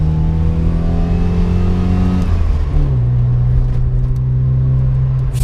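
A Mk3 Ford Fiesta's 1.4 litre engine revs hard in first gear, a loud steady drone climbing toward 6,000 RPM, then dips and settles into a lower sustained note.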